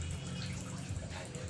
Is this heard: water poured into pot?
yes